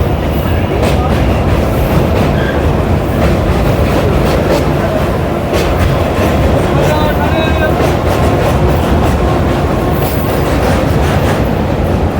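A local commuter train from Sealdah to Howrah rumbles loudly and continuously as it crosses the Hooghly River, its wheels clattering over the rails with a faint metallic squeal partway through.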